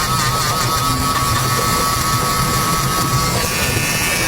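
An electric eyebrow trimmer buzzes steadily as it shaves eyebrows, a close, continuous high whine without pauses or talk.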